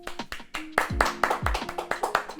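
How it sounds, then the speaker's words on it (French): A few people clap while unboxing gifts, sharp, uneven claps that come quickly at first and then in a loose, slightly faster rhythm. The room is close and quiet, with low thuds underneath. "Calici, on peut applaudir."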